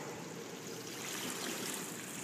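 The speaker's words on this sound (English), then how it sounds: "You can see how quickly I can drain this water now." Water rushes out of a water table through an opened 2-inch valve, a steady, broad gushing and splashing that stays loud and constant throughout.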